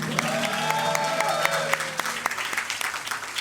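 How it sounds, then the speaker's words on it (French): A crowd applauds loudly and steadily at an awards ceremony after a dance performance, with a few sharper claps standing out and a sustained musical tone trailing under the cheering. "encore des applaudissements"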